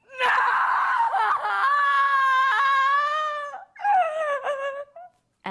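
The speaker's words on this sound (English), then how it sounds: "Listen as she tries one scream with the word no." A voice actor screams the word "no" for a video game, drawn out and strained across several seconds, then breaks off into shorter, choked cries. Loud and close, with no other sound.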